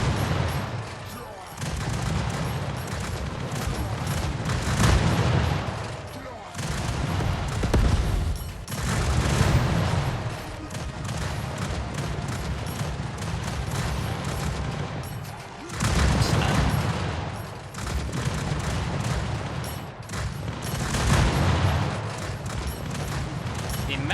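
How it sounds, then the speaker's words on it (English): Gunfire and homing missile impacts in a video game, dense continuous shooting and explosive bursts with brief dips, loud throughout. "After your shots land, it has a chance of launching 3 homing missiles."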